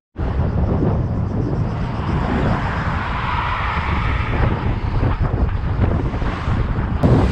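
Strong wind of about 30 to 35 km/h buffets the microphone at a paraglider take-off site, a loud, steady roaring rush that barely changes throughout, with a sharp knock near the end.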